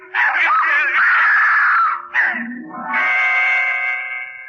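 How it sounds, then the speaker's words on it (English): A woman's long, high scream rises and wavers, breaks off briefly, then resumes as a sustained wailing cry, loud and close. "Her scream brought me back to reality."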